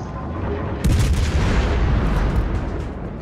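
Heavy naval artillery salvo in a World War II warship battle game, the Dutch cruiser Haarlem firing and scoring a citadel hit, one loud booming blast with a long rolling rumble.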